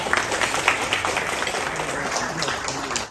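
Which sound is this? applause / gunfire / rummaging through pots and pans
applause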